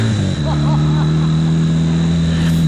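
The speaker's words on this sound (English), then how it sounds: "we have a typical old-time Kawasaki Z with a typical key and a kick start. So we kick it and we are start" A 1976 Kawasaki Z400 motorcycle engine running just after a kick start, a loud close steady hum with a faint high whine and brief faint speech.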